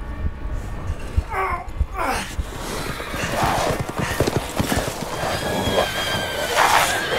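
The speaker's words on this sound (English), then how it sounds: "Werewolves on horses." Horses whinny and neigh with clip-clopping hooves in the Resident Evil Village video game, where werewolves ride them; several loud whinnies rise over a busy mix of game effects and rumble.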